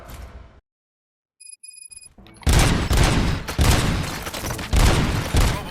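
Rapid bursts of gunfire erupt in the video game Robocop: Rogue City after a short silent gap, with loud repeated volleys and heavy shots firing in close succession, alone with no voices.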